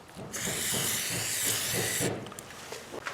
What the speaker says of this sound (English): Now we're going to use some silicone over here on the bushing ends, just to get going a little smoother.